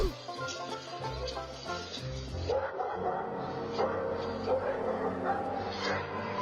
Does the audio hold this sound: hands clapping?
no